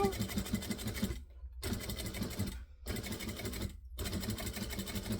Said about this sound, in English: I'm just going to continue up around this corner and push that over so that I get the last little bit of stitching